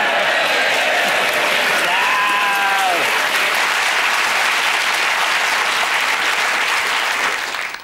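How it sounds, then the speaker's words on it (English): Studio audience applause on a British topical comedy panel show, loud and sustained for about eight seconds, with a few whoops and a cheer rising over the dense clapping before it cuts off. "Applause at that point, usually."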